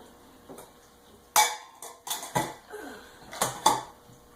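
A mixing bowl is lifted and moved off a kitchen counter beside honey oatmeal cookie dough, giving a few scattered clinks and knocks, then a cluster of sharper clatters near the end, close by with no talk.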